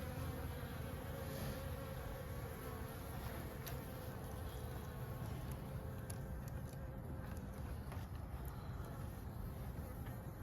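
Honeybees hum steadily around the entrance of a hive during a late-season check before winter, a dense, continuous, low buzz with occasional louder passes of individual bees, faint and unbroken throughout.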